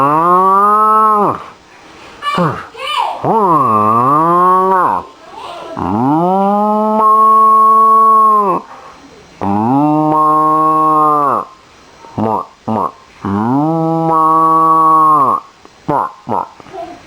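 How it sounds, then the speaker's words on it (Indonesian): A cow moos in several long, loud, drawn-out calls close by, each rising and falling in pitch, with short gaps and a few brief clicks between them. "sapi, suara sapi"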